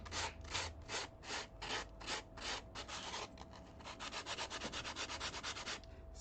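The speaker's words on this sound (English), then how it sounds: "I can do some just basic sanding." Hand sanding of a polymer clay sculpture during restoration: steady rhythmic back-and-forth rasping strokes, close and clear, slow at first then faster and denser, with no talking.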